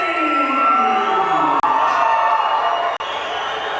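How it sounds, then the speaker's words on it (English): A boxing crowd in an Edmonton arena cheers and applauds for a local fighter heading to the ring, a loud, continuous roar with whoops that stays close and dense from start to finish. "The applause slightly louder for Doug Page, who is from here in Edmonton, as he gets ready to make his way to the ring"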